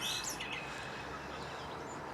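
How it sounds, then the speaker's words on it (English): Birds, starlings among them, sing at dawn in a small copse beside a lake in mid May. Several chirps and whistles rise over a steady, dense outdoor hiss, and the birds sound moderately distant. "the birds in this little copse seem to start at an ungodly hour of the morning"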